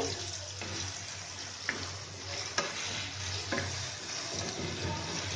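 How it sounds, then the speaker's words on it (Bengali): Onions and potatoes frying and being stirred in a pan during a home fish-curry cook, a steady soft sizzle with occasional light scrapes and clinks of the spatula, no talking. "এটাকে আর একটু নেড়ে টেড়ে আমি ভাজছি"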